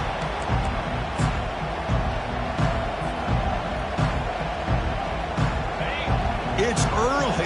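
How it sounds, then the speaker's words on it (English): A roaring stadium crowd in a football video game, a constant dense wash of cheering and noise with sharper bursts poking through, steady and loud across the whole stretch. "It's early, but this crowd is fired up. Listen to this noise here."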